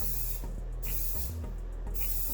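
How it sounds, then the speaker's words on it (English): Aerosol spray can hissing steadily onto a glitter tumbler in two long continuous bursts with a brief pause between, close and even. "I'll spray more. I'll go and do a second layer."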